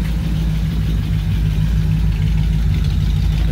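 A 1940 Ford flathead engine with Fenton headers and dual exhaust idles steadily with a deep, throaty low rumble from the exhaust, close by and constant, no voices.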